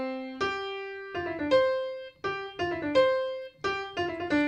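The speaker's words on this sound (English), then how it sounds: "The Star Wars song is a perfect 5th," A piano plays the leaping opening of the Star Wars theme, several quick notes and sustained tones repeated in short phrases, bright and close with no speech over it.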